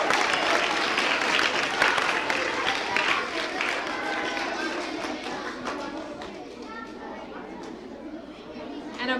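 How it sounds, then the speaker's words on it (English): An audience applauds the readers after a school performing-arts staging of How the Grinch Stole Christmas, dense sustained clapping with some cheering and chatter that slowly tapers off. "Let's give our readers a round of applause."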